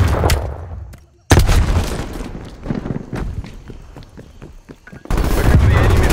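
Gunfire and a frag grenade blast in Black Ops Cold War capture-the-flag multiplayer: loud bursts of rapid shots, a brief drop to near silence, then another heavy explosive burst.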